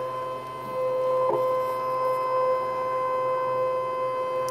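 A Brother ScanNCut machine hums with a steady tonal electric whine as it runs its motor on a stamped image, a continuous close mechanical drone with a brief click near the start.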